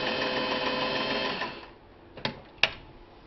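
A vintage Singer 500A sewing machine runs in a steady, close whirring stitch in reverse and forward, then stops, followed by two sharp mechanical clicks.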